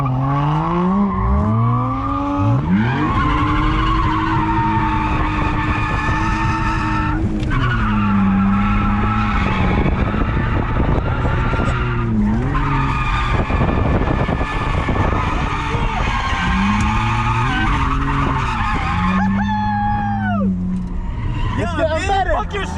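A BMW E46 wagon drifts through a hairpin in first gear, its engine revving and wailing with rising and falling pitch while tyres skid. Loud and close throughout, with engine note sweeping up and down between shifts.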